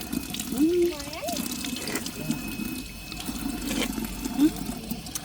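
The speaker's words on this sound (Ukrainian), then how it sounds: "О, є водичка, є вода. Так що можна підійти і попити." Running water from a public drinking tap in an Odesa park, a steady close splash and trickle heard throughout, with people speaking briefly over it outdoors.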